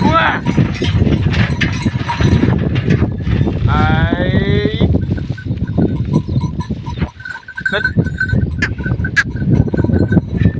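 A cow lets out a long, loud moo close by, amid outdoor noise and people talking nearby.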